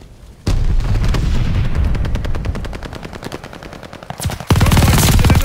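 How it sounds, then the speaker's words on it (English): Call of Duty: Vanguard battle with a loud blast of gunfire and a grenade explosion, sustained rapid machine-gun bursts rattling throughout, then a second heavy burst of fire near the end. "Incoming grenade."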